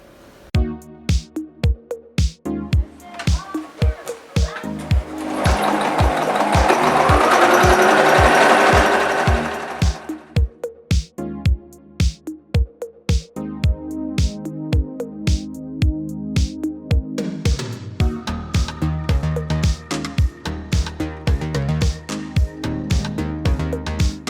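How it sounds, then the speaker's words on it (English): A sewing machine stitches fabric strips together for a color-blocked retro dress, a fast, loud, steady mechanical rattling with one brief pause near the start and a shift in tone toward the end. "So now I can start sewing the strips together like so."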